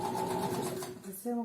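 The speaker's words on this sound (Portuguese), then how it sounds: "Vou passar uma costura de firmado. Então, vai ser uma costura na beira." A sewing machine runs a narrow edge seam, its fast steady whirring stitch close and continuous, with a brief change in pitch near the end and someone talking over it.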